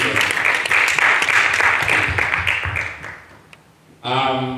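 Applause from a church congregation rolls on for about three seconds, then fades away before a voice begins speaking.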